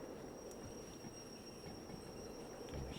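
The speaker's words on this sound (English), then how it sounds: "Start getting some brake on now." Train in the Derail Valley simulator rumbling along with a steady low rail drone and a thin high squeal as brakes are applied, continuous and fairly close, no talk.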